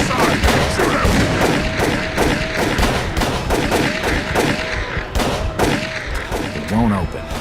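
Gunfire in the horror game Call of Cthulhu: Dark Corners of the Earth, a dense barrage of loud shots and thuds mixed with voices and game effects throughout.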